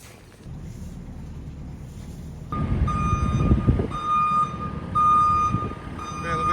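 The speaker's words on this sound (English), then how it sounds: "I'm going to get the lorry backed up." Lorry reversing on a farm, its backup alarm sounding a series of loud, evenly spaced electronic beeps over engine rumble and light wind noise.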